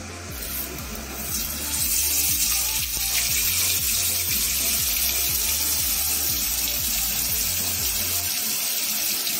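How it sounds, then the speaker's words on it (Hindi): Whole tilapia fish frying in hot oil, giving a steady, loud, close sizzle and hiss that runs throughout with a faint low rhythmic pulsing underneath and no talking. "ऑयल गरम हो गया है, अब हम फिश को फ्राई कर लेंगे।"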